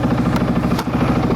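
Engine of a Segway Snarler AT6 570cc ATV running steadily after starting, a close, loud, continuous rumbling idle with a brief dip partway through.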